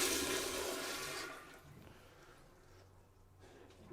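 A toilet flushes nearby with a loud rushing surge of water that gradually fades into a quieter trickle as the bowl refills.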